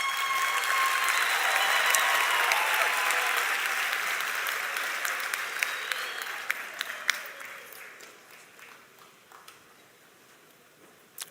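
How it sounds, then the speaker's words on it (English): Audience applause for graduates at a Stellenbosch University Arts and Social Sciences graduation ceremony, dense and sustained clapping that gradually fades out over about eleven seconds, ending in scattered claps and near silence. "And you may clap again for your graduates."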